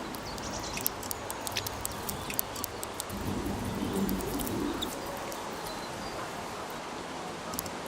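Wild garden birds at Pennington Flash, such as robins, coal tits and chaffinches, call in sharp, scattered chirps over steady outdoor ambience, with a soft cooing murmur partway through.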